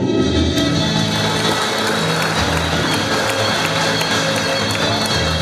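An audience at a graduation ceremony claps steadily in a dense, continuous wash of applause, loud and sustained throughout, with murmuring and tonal background sound mixed in.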